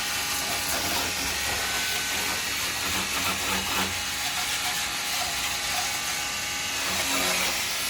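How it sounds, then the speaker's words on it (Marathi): Cordless water gun spraying water drawn from a bucket, a loud steady motor whine with a hissing rush of pressurized spray running without a break. "प्रेशर खूप छान आहे पॉवरफुल प्रेशर आहे ह्याचा वॉटर गनचा"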